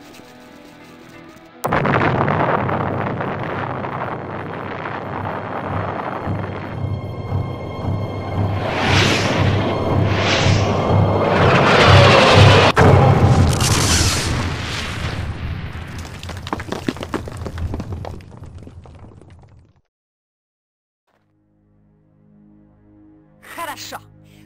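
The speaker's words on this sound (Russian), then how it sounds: "Удивительное зрелище. Взрыв. Да какой! Словно на 4 июля." A base blows up in the tactical video game Jagged Alliance 2: a sudden loud blast swells into a long, roaring, crackling series of rumbling explosions for nearly twenty seconds, then cuts to near silence with a faint after-sound.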